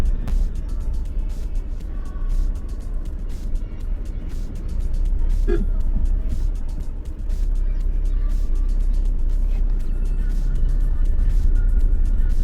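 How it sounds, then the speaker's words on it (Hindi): A car crawls along potholed National Highway 930 between Chandrapur and Manpur. A continuous low engine and road rumble is heard from inside, with brief jolts and a short dip midway as the vehicle works over the broken surface. "खड्डों में से गाड़ी चलानी पड़ रही है"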